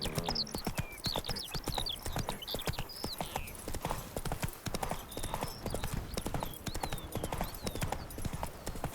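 The horse Roach gallops in the video game The Witcher 3, with steady rapid hoofbeats close and loud throughout, an occasional snort or whinny, and birdsong in the background.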